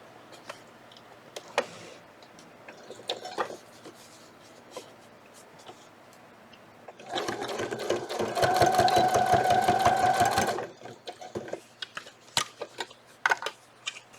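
A sewing machine top stitches a folded fabric edge for about three seconds, a fast even mechanical whir that starts abruptly and stops just as suddenly, with scattered handling clicks before and after.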